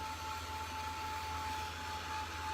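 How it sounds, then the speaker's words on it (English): A Heat It heat tool blows a steady, even whoosh over wet watercolor paint, a continuous low motor hum with airy noise and a faint high whine, unbroken and fairly close, with no talking. "I've got this Heat It tool that I love."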